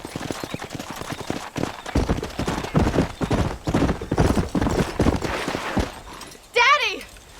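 Horse hooves galloping in the Red Dead Redemption Western game, a steady rapid clip-clop running throughout with a brief whinny near the end, while voices talk over it.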